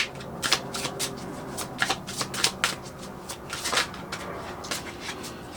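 Oracle cards from an elemental empath deck are shuffled in a steady run of crisp, papery riffling flutters, close and moderately loud, with no talk over them.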